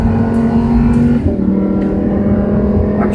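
A race car engine drones loudly on track, with one smooth gear shift partway through where the pitch steps down before the engine pulls again. No voices.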